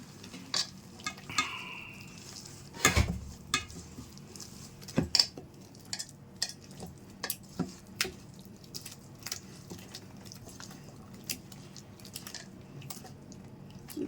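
Gram flour batter with salt being stirred by hand in a bowl, giving soft wet squishing and scraping strokes with a few sharper clinks of a utensil, steady and close with no talking.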